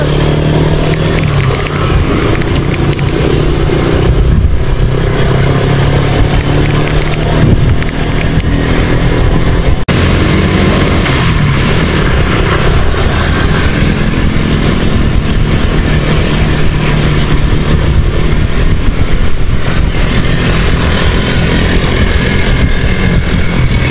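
A motorcycle engine runs loud and close for the whole stretch, a steady droning idle with smoke coming out from under the seat, no voices over it.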